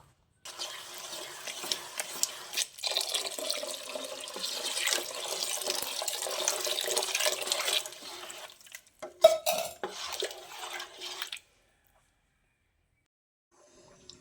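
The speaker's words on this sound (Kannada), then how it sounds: "ಇನ್ನೂ ಒಂದು ಪಾಟೆಯಷ್ಟು ನೀರು ಹಾಕ್ಕೊಳ್ಬೇಕು." Water pours in a steady rushing stream into a pot of bisi bele bath for about ten seconds, with brief gurgling splashes, then stops abruptly into silence.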